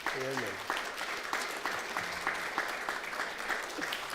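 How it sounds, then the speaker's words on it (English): Church congregation applauding during a celebration of thirty years of ministry, steady clapping throughout with some voices and a short sung or spoken tone near the start. "And I think we could give them a big clap for that."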